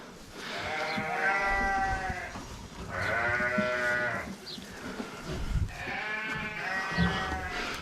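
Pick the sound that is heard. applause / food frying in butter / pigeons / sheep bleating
sheep bleating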